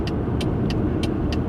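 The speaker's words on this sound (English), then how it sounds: "I have the AC going. The car isn't the most particularly quiet car in the world" Steady broadband rumble of road and engine noise inside a moving car with the air conditioning running, a constant low drone with faint periodic high ticks, no voices.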